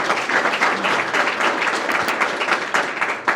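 A brief burst of warm audience applause for a presentation at a speaking event, many hands clapping close and loud at a steady level, with no talking.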